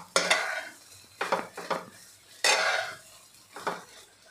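Egg bhurji with coriander being stirred in a pan, several sharp scraping spatula strokes against the metal at irregular intervals over a soft background sizzle.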